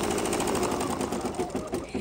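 An embroidery machine stitches the placement outline of a gift box shape for an appliqué block, a steady, close mechanical whirring and needle rattle running continuously with slight wavering in loudness.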